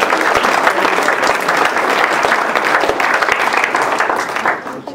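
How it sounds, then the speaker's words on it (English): Loud, enthusiastic audience applause at a corporate mentalist show as a volunteer is called up on stage, with dense clapping throughout that tapers off at the end. "Give her a round of applause."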